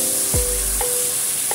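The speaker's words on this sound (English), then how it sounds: "Stir fry, mix everything." Mung bean sprouts stir-fried with light soy sauce in a hot pan, a loud, steady sizzle with a few quick knocks and scrapes as the food is tossed.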